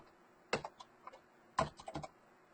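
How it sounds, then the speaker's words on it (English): Sparse, quiet keystrokes on a computer keyboard, a couple of sharp taps followed by a small cluster of lighter clicks, heard up close. "I'm typing a lot of weird stuff here."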